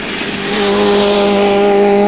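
Onboard an Alfa Romeo touring race car during the 2005 WTCC race at Istanbul: a loud, steady engine drone with sustained harmonic whine, rising slightly as the car accelerates through the run.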